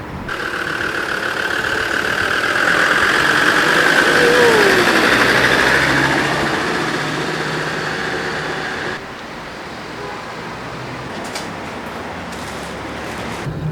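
A car engine runs steadily while driving toward a bakery near the hilltop town of Locorotondo in Italy, swelling louder mid-drive then settling to a quieter, even hum with no talking.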